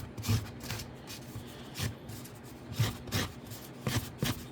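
Rough scraping strokes of scissors dragged across wood, repeated in short uneven bursts, close and fairly quiet.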